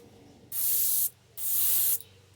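Createx paint is sprayed from an airbrush onto fishing baits in two distinct bursts of airy hiss, each about half a second long, close and fairly loud against a quiet background.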